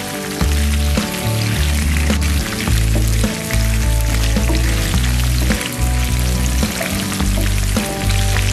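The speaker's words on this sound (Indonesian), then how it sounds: "Lalu digoreng sampai benar-benar matang." Shallots, garlic, bird's eye and dried chilies, candlenuts and shrimp paste frying in hot oil for a peanut sauce, a steady loud sizzle that runs the whole time with a low hum beneath, no talking.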